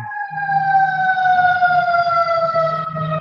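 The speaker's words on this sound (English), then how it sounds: "There's a siren in the background." A siren wails in the distance with a steady, slowly falling tone that stays prominent throughout, over a faint low rumble.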